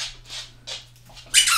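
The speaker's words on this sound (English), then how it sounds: "So many squeaks." A Mardi Gras-themed Jester Ball dog toy with nubs inside gives four short, high squeaks in quick succession, the last one sharper, with no talking over them.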